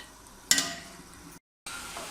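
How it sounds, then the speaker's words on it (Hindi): Spices and salt stirred into chana pulao in a pan make a soft scraping, sizzling mix, with one sharper spoon clatter, a brief silent cut, then more gentle stirring. "ये हमने सारा कुछ ऐड करने के बाद इसको करना है अच्छे तरीके से मिक्स।"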